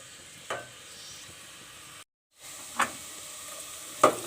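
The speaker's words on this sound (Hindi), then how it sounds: "प्याज हमारी हल्की ब्राउन हो चुकी है, बस इसे हमें थोड़ा सा कलर चेंज करना है।" Finely chopped medium onion frying in a pan, cooking to light brown, with a steady soft sizzle broken by a brief silent gap and a few sharper stir or clatter accents.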